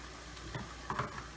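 Food sizzling in a frying pan with salt sprinkled over it, a soft, steady frying hiss with a couple of faint crackles, heard close and alone for a brief moment.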